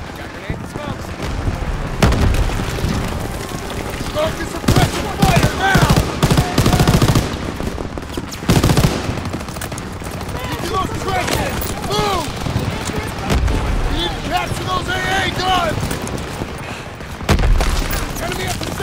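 Dense machine gun fire and scattered gunshots and booms in Call of Duty: WWII on PC, a loud continuous battle with bursts of rapid shots and shouted voices over the fighting.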